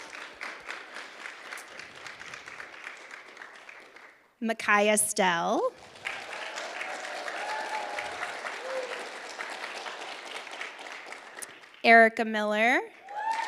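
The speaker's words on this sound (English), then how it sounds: "Round of applause." Audience applause at a university spring final presentations event as incoming team leaders are introduced, steady clapping throughout with a speaker's voice announcing names over it twice.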